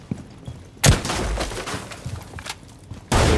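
Rapid bursts of automatic gunfire from Rainbow Six Siege, one loud volley cutting in near the start and another near the end, with quieter scattered in-game shots and thumps between.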